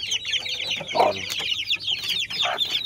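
Clucking from native-cross hens and Dongtao chickens in a small backyard coop, a busy overlapping chorus of short calls, with louder clucks standing out near and a steady flock murmur beneath.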